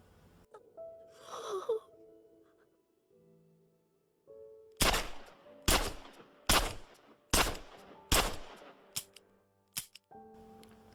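A rapid series of about eight sharp, loud gunshots from a film scene cracks out in close succession, set against quiet tonal score and sound effects before and after.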